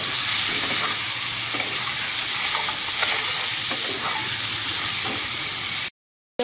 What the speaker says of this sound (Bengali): হলুদ দিয়ে ভালোভাবে হলুদ নুনের সাথে আমি নাড়িয়ে করে নেব।